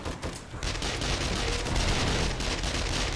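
Rapid submachine gun fire in a video game bursts out in a dense, continuous rattle, loud and close, after a brief opening shot.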